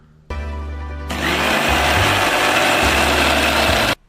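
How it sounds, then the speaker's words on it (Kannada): Electric mixer grinder grinding lotus seeds and betel leaf, its motor kicking on abruptly, rising to a louder steady whine after a second, then cutting off sharply after about three and a half seconds. "ಇದನ್ನು ನಾವಿವಾಗ ರುಬ್ಕೊಂಡು ಬರೋಣ."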